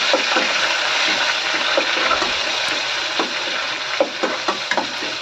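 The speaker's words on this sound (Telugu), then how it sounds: "ఇది కూడా కొంచెం ఫ్రై అవ్వాలి కొంచెం పచ్చివాసన పోయే వరకు ఫ్రై చేసుకోవాలి" Ground masala sizzles steadily in a pan for a fish curry, a continuous close frying hiss broken by occasional stirring scrapes, with no talking.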